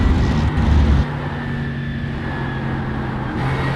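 Racing car on a fuel-saving lap at Silverstone, engine droning steadily in the cockpit with a drop in pitch as it downshifts, loud and continuous with no talking.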